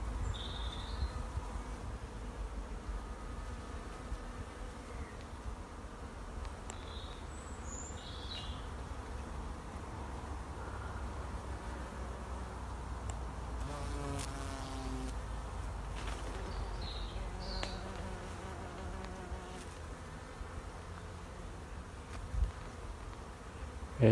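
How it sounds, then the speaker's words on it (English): Bees buzz softly while gathering nectar outdoors in a wild natural setting, a faint continuous hum with occasional closer passes drifting in and out over quiet ambient background. "bees just trying to get some nectar"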